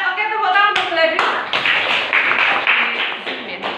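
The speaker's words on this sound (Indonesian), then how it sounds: "tepuk tangan untuk Gladys." A middle-school classroom claps together, a brisk run of handclaps lasting a few seconds, beginning under a teacher's speaking voice.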